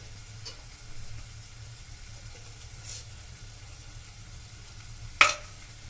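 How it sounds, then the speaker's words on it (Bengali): Potatoes stirred in a frying pan for a sandwich filling give a faint, low sizzle with soft scraping, and a sharp clack of the spoon against the pan comes near the end. "আলুটাকে নাড়াচাড়া করে নেব।"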